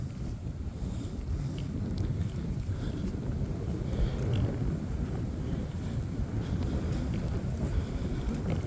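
Strong wind buffeting outdoors on an afternoon hike in Glendalough State Park, a constant loud low rumble and roar against the microphone, with no voices.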